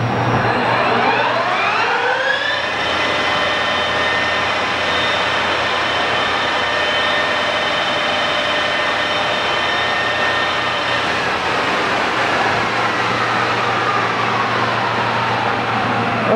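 A heavy-duty American Tool Works 19 by 88 inch Style B engine lathe spins up to 1500 rpm, its rising whine settling into a loud, steady high-pitched hum with gear drone, then easing down near the end.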